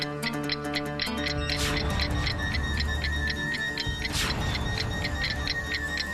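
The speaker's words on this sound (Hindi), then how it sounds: "आवाज तो घड़ी की है। ये डस्टबिन में से आ रही है।" A clock ticks steadily from inside a dustbin in a cartoon, the cartoon time bomb's tick-tock running in a regular rhythm, close and clear throughout, with no talking.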